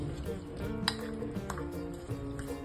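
A spoon stirs grated cucumber into curd in a bowl, producing soft wet squishes and light metallic clinks against the bowl, close and quiet, with no talking.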